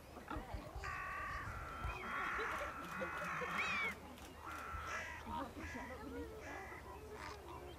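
A group of crows keeps cawing in overlapping bursts over soft background noise outdoors, with faint voices mixed in.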